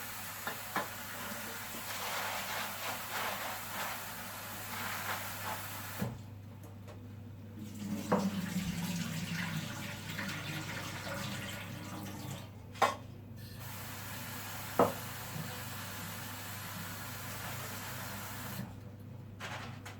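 Dried peppers are washed under a running kitchen tap, with water flowing steadily into the sink, interrupted by brief pauses and a few knocks and clunks nearby.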